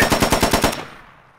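Rapid automatic fire from a G3A3 battle rifle in the tactical shooter game Squad: a quick string of about eight loud, evenly spaced shots, then a fading reverberant tail, with no talk over it.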